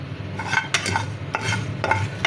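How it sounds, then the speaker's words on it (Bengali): Spices fry in a pan over low heat, a soft sizzle broken by several sharp scraping stirs of a spoon against the pan, close and clear with no talk. "চুলা আঁচটা লোতে রেখে মশলাটাকে আমি ভেজে নেব"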